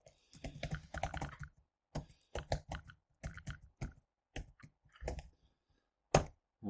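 Rapid bursts of close keyboard typing, clattering keystrokes in quick runs separated by short pauses while a file path is edited on a computer.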